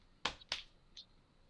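Two sharp hand claps close by, spaced a quarter second apart, meant to switch the lights on, followed by a brief faint electronic tone.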